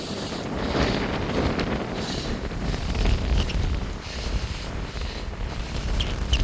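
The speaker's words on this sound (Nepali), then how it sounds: "यस्तो हावा चलेको छ आज बाबा कडा हावा चले" Strong, cold wind gusts steadily at a small beach beside a long jetty, roaring and buffeting the microphone throughout with continuous low rumble and no talking.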